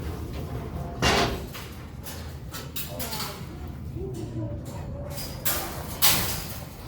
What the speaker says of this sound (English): To close the guillotine door, simply unhook the hook and guide the door down.